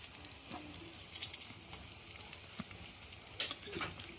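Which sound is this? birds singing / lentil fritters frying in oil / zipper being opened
lentil fritters frying in oil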